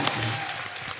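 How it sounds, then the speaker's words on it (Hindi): Studio audience at the Kapil Sharma Show claps loudly in a dense, continuous burst, with a murmur of voices mixed underneath. "पाजी जोरदार तालियां आप।"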